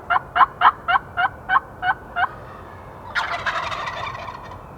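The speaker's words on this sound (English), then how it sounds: "I think we had turkeys." Wild turkeys gobble outdoors during a hunt, with a quick run of about eight loud, evenly spaced calls followed by a longer, rougher gobbling rattle.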